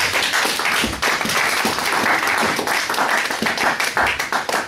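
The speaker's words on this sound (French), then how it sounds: "Applaudissez pour le Seigneur" A congregation claps together during a Sunday church service, loud and dense with rhythmic beats standing out from the wash of hands, continuous for several seconds.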